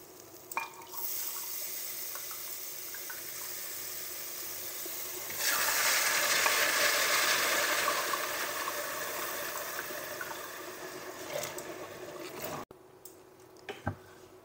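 Water is poured onto rice in a pot for Cuban congrí, a steady rushing pour that swells midway, then drops off to small clinks and taps near the end.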